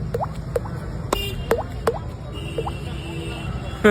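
A child mimics water drops with a series of quick, bright plinking mouth sounds, about seven in a few seconds, near and clear against a quiet background.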